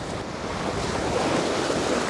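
Waves and water rush steadily past the hull of a sailing boat beating close-hauled at sea between Brest and Belle-Île, a loud, continuous wash mixed with wind buffeting the microphone and no voices.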